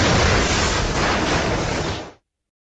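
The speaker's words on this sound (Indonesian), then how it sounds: "ledakan besar menghancurkan kendaraan itu total" A massive explosion destroys a car in an action film, a loud dense roaring blast that holds for about two seconds and then cuts off abruptly.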